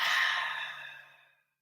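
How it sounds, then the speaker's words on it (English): A long, full exhale released as a sigh during a guided meditation breathing exercise, breathy and close, fading out steadily over about a second and a half. "Let go of all of your breath."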